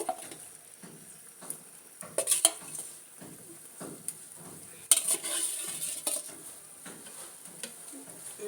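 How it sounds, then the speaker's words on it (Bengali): Fried puti fish added to a tomato curry and stirred with a utensil, making rhythmic scraping and clinking strokes against the pan over a soft, faint bubbling sizzle, with a few sharper knocks. "সেখানে আমি মাছ ভাজাটা এখন দিয়ে দেব"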